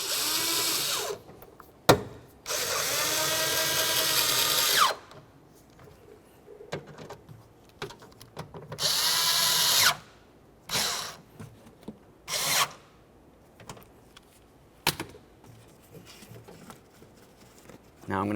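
Power drill tightening the window regulator mounting screws inside the door of a 2001-2005 Ford Explorer Sport Trac: several close, loud whirring bursts of a few seconds each, separated by pauses with small clicks and handling knocks.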